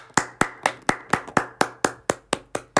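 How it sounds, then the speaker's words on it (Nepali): Twelve sharp hand claps in a steady, evenly spaced rhythm, fairly loud and close, with no talk over them. "सबैजनालाई चाहिँ ताली।"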